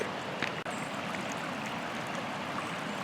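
Stream of water flowing after rain, a steady broadband rushing and gurgling wash heard close and continuous, with a brief knock early on.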